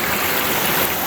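Waterfalls and a stream along the Ozark Highlands Trail: a steady, loud rush of flowing water filling the whole moment, with no talking.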